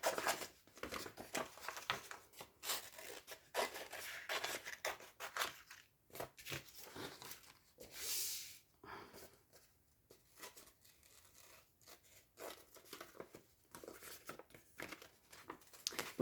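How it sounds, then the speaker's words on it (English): Scissors snip through paper for a collage in quiet, scattered bursts of short cuts and rustles, close but faint. "And now I'm going to use scissors"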